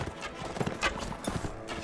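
Horse hooves clip-clop at a steady gallop in the game Mount & Blade Warband, close and moderately loud, with a brief whinny-like accent partway through.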